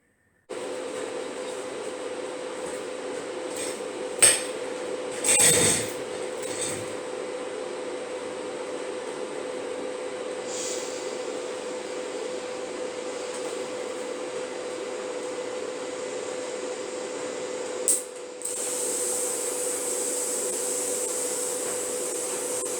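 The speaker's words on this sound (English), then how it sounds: "time to set up the TIG welder and lay a TIG weld around that" TIG welding on a BSA Bantam motorcycle part in a workshop: a long, steady electric hum with faint hiss running for about twenty seconds, broken by a few short clicks and bursts, no voices.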